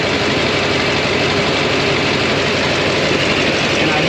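A 2008 Chevrolet Silverado 6.6 Duramax diesel idling with a suspected exhaust manifold leak, a loud, steady close-up engine drone with a fine rapid ticking running through it, with no talk over it.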